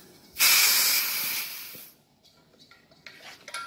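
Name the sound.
car AC service hose released, refrigerant gas hissing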